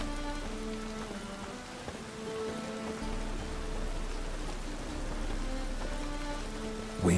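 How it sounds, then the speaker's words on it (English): Rain falls steadily in the Witcher 3 video game, a constant close patter on surfaces with faint tonal game sounds beneath and a louder knock at the very end. "Witches have conjured rain again."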